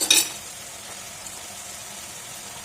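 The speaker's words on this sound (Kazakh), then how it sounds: "Туамыз араластырып туамыз етпен бірге қызартып." Tomato and meat sizzle and fry in a pan for pilaf, a brief scrape of stirring at the start giving way to a steady, moderate frying hiss.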